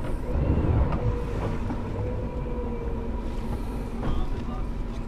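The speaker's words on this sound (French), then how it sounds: "En jouant sur les moteurs, la triplette Yamaha qui est au tableau arrière et sur le propulseur d'étrave." Triple Yamaha outboard motors on the transom with a bow thruster work together on a boat, giving a steady low engine rumble and churning water hum, with a faint whine rising near the end.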